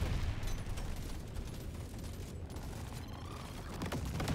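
Constant dense explosions and gunfire rumble in the video game Deep Rock Galactic Survivor, forming a steady muffled roar, fairly faint.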